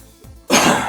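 After a faint low rasp, a single short, loud, close cough breaks out and trails off.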